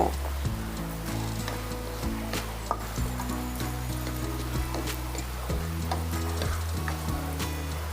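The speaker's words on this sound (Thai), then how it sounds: "พริกทอด ใจพริกแห้งเม็ดน้อยนะเจ้า" Small dried chilies frying in oil, a busy crackling sizzle throughout, with a low steady droning tone underneath and no talking.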